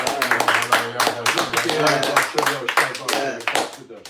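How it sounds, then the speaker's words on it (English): A small audience at a live talk show claps in a burst of distinct, close, uneven hand claps that go on for a few seconds and then thin out, with a voice speaking over them. "let's give a little clap for that, man"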